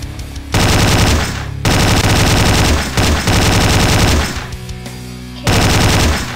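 Loud, close machine gun bursts rattle in the game Slendytubbies, coming in several long sustained volleys separated by short pauses, with no voices.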